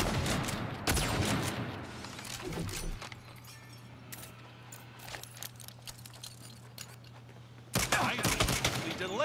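Rapid bursts of gunfire from a gun in Saints Row crackle at the start and again near the end, with a steady low hum and quieter game sounds in between.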